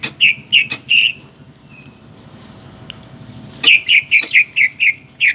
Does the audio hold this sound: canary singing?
yes